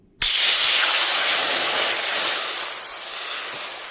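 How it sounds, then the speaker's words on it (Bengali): Water poured into a hot wok bursts into a loud, sudden hiss that holds steady for several seconds and then slowly fades, heard close up and alone. "কড়াই জল দিয়ে দেবো"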